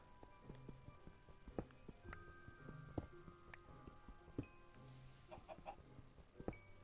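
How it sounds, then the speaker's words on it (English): Chickens cluck softly in Minecraft, short repeated low clucks scattered over a quiet game backdrop with faint clinking and hoof-like clops, no talk. "Another chicken."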